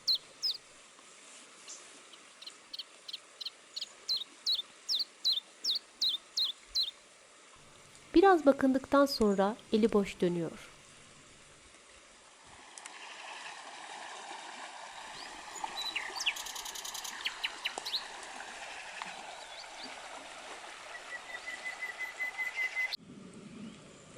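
Wild birds calling outdoors on an overcast day, a run of sharp repeated whistled chirps followed by a busy burst of lower fluttering notes, then a softer chattering background, with someone narrating partway through.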